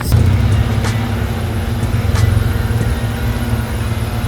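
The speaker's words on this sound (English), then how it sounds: "I think we're gonna have to move the car a little bit backwards" A tiny car being moved slowly backwards, giving a low, steady engine rumble close by with a couple of faint clicks on top.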